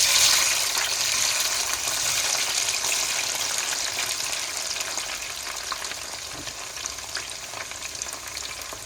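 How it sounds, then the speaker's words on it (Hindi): Capsicum frying in hot oil in a pan: a loud, steady, close sizzle that fades slightly as it goes on. "अब दूसरी चीज़ों को फ्राई करते हैं। अब सबसे पहले हम डालते हैं शिमला मिर्च।"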